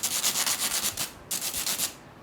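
A scraper dragged loudly in a live soundscape performance, standing for a lawnmower destroying a pond: a rapid train of harsh, rhythmic rasping strokes, a brief pause, then another burst of scraping, close and alone.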